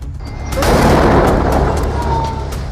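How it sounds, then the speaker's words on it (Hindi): A large landmine explosion destroying a Merkava tank booms and rumbles heavily, its roar swelling and lingering for a couple of seconds before slowly fading. "टैंक आता है और कुछ सेकंड बाद होता है बहुत बड़ा धमाका।"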